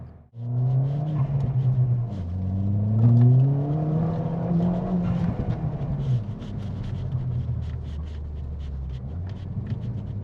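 A deep, rumbling car exhaust from a modified Ford Fiesta ST180 with a TRS Stage 2 upgrade drones steadily, rising and falling as the engine revs, smooth and low rather than raspy, heard from inside the car.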